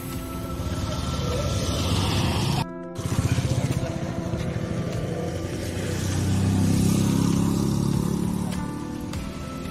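A new Honda Activa 7G scooter on a test ride just after rain gives a steady, close engine drone. It cuts out briefly near the start, then swells louder toward the end, with no talk.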